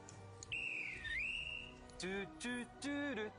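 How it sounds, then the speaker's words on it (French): A whistle gives a short sliding blast early on, then several brief toots follow in quick succession, heard faintly over a murmuring background. "Alexandre, j'aurais besoin d'un petit coup de sifflet, s'il te plaît"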